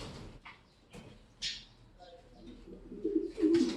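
A racing pigeon kept as a breeder coos softly at close range in short, low, throaty bursts, with faint fluttery rustles between the calls.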